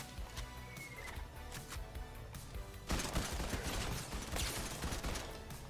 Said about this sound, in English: Oh, I think he tamed that raptor.